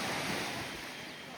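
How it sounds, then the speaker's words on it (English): Ocean waves wash onto a beach lined with fishing boats, a steady close rush of surf blended with wind buffeting the microphone throughout the brief moment. "Very nice looking beach with very good water quality."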